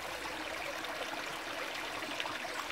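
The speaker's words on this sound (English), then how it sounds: "Trickling water, it's lovely" Stream water trickling along a valley walk in Ashworth Valley, Rochdale, a steady soft wash of running water with no pauses, moderately close and alone without voices.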